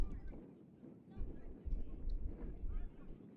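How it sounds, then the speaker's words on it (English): Wind buffeting the microphone at an outdoor women's youth football match, low rumbling gusts swelling and fading under faint commentary. "It's a bit windy."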